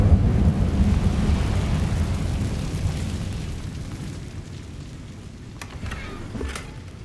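A fire spell, Incendio, cast in Hogwarts Legacy makes a deep rumbling roar of flames that starts loud and slowly fades over several seconds, with a few faint crackling snaps near the end.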